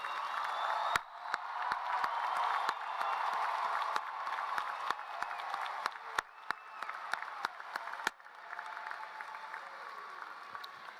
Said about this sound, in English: Please join me in giving our graduates one last round of applause.